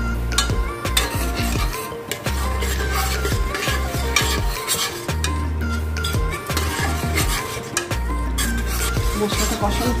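Sour yogurt is stirred into a sizzling spice masala for a Bengali mutton curry made without onion or garlic. A spoon scrapes and clinks steadily against the pot over a constant loud frying hiss.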